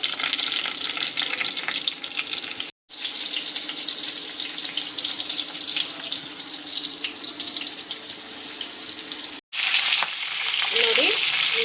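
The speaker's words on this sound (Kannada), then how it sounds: "ಇವಾಗ ಇದಕ್ಕೆ ನಾವು ಬದನೆಕಾಯಿ ಫಿಲ್ ಮಾಡಿ ಇಟ್ಕೊಂಡಿದ್ವಲ್ಲ, ಅದನ್ನು ಒಂದೊಂದಾಗಿ ಹಾಕ್ಕೊಳ್ಳೋಣ" Stuffed brinjals frying in hot oil for a North Karnataka–style enne badnekayi, a loud, continuous bright sizzle broken by two brief dropouts. No voices are heard.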